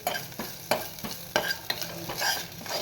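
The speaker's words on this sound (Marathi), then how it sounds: "हे पहा, कोथिंबीर फोडणीत टाकून घेतली आहे." Crackling sizzle of coriander leaves frying in hot oil for tempering, with a spoon stirring in regular scraping strokes; no voices.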